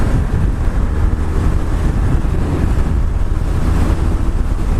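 BMW R1200R motorcycle accelerating hard from highway speed, heard as loud, steady roaring wind buffeting over the engine throughout with no talking.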